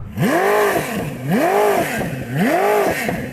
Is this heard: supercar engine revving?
yes